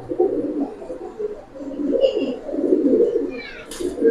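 Pigeons coo in low, rolling murmurs close by, a steady throaty burble from a small flock of silver pigeons, with a brief higher bird chirp near the end.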